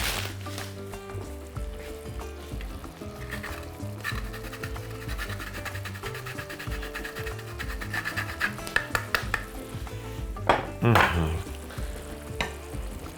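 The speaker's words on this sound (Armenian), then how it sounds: "Խառնում ենք։" A pasta white sauce with about 30 grams of grated parmesan being stirred in a pan, with steady scraping and sizzling throughout and a few sharper clatters near the end, close and without talk.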